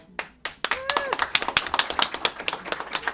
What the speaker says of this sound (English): we got to give ourselves an applause